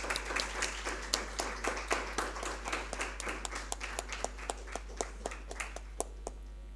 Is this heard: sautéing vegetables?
no